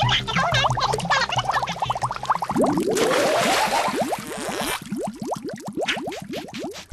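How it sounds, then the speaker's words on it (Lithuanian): Water boils in an uncovered pot, rendered as a lively stream of rising bubbly pops and blips with a burst of steamy hiss in the middle, loud and close. "Verda neuždengia puodų."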